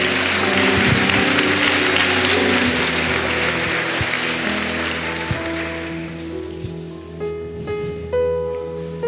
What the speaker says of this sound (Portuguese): Dá uma salva de palmas para Jesus por ela.